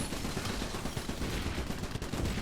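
Continuous video-game gunfire aimed at airborne enemies, dense rapid shots like a machine gun fusillade, loud and steady throughout with no talking.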